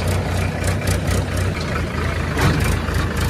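A tractor engine runs steadily at idle, a close, continuous low mechanical drone with a faint pulsing throb and no talk.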